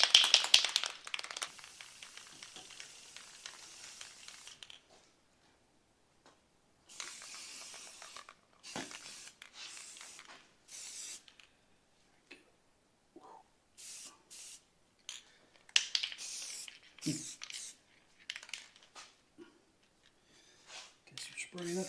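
Bursts of aerosol spray from a can of high performance enamel being applied to a rusted Massimo T-Boss 550, each hiss a few seconds long with quiet gaps between, close and fairly faint.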